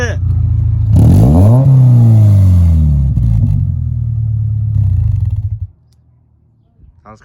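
Subaru Impreza with a cheap eBay aftermarket exhaust and the silencer removed, revved hard nearby: a deep loud roar climbing and settling over several seconds, then cutting to near silence, with voices faintly around it.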